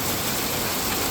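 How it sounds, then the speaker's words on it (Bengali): Heavy rain pouring down, a dense, even hiss with fine patter throughout, loud and close, with no voices. "এত বৃষ্টি হচ্ছে।"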